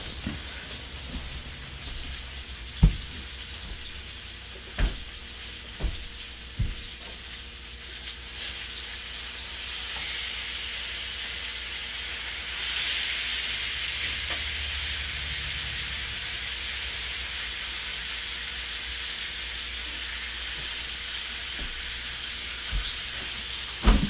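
Steak frying in a pan gives a steady, broadband sizzle, low in level and continuous throughout, swelling somewhat louder midway, with a few faint clicks and knocks scattered early on and no talking.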